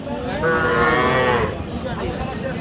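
A single drawn-out moo from a young calf, fairly close, over a low rumbling outdoor background at Raniganj cattle market.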